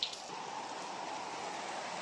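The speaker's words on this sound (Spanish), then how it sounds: "miren, está a llueve y llueve ya." Steady rain falling outdoors, a continuous even hiss of drops at moderate volume with no voices.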